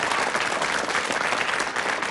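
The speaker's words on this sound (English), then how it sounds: "let's give him another round of applause" A studio audience at a 1983 British quiz show applauds a major-prize winner, dense sustained clapping filling the whole stretch, loud and close.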